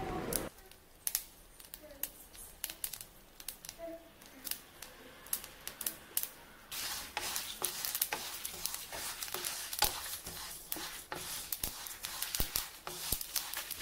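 Sesame seeds roast in a dry pan for a spicy powder, popping in sharp scattered crackles, sparse at first and then thicker and faster. A voice talks quietly beneath.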